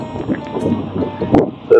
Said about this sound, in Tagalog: mahangin ng panahon